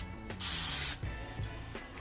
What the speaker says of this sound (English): so now I'm just going to spray it with some palm